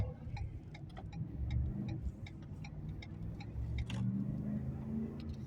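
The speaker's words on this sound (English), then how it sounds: "Dealing with stupid fucking traffic here." Road traffic with a car engine rumbling low and steady, a vehicle idling and creeping along with faint ticking on top, at moderate level and with no clear speech.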